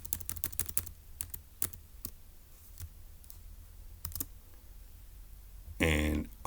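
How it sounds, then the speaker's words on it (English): Quick bursts of computer keyboard typing while working on a daily Turing Machine puzzle, close crisp clicks in uneven clusters, ending with a short louder rustle. "I'll just type it up that we deduced this result"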